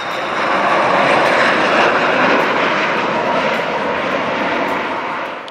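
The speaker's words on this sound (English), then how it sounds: "Another plane flying over." A fixed-wing airplane's engine drones loud and steady as the plane passes overhead, swelling and then slowly fading, with no voices.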